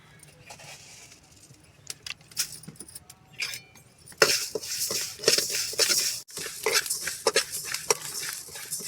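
Cumin seeds for tomato chutney are stirred as they fry in a pan: scraping and metallic clinks, then a fuller sizzling hiss with rhythmic stirring knocks that grows louder midway.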